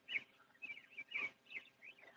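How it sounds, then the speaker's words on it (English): Several birds chirp outdoors just after a hard rain, a run of bright, quick calls in short bursts about every half second, fairly faint and somewhat distant, with no talking. "After a hard rain, the sun comes out and all the birds start in."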